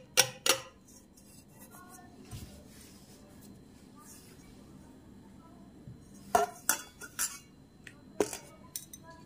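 Leftover flour knocked out of a cake bowl, a few sharp clinks and taps at the start and again near the end, with quiet gaps between.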